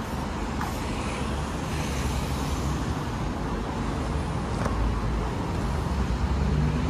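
Steady road traffic rumbles past without a break, with cars and heavier vehicles blending into a loud, continuous wash of engine and tire noise, with no speech.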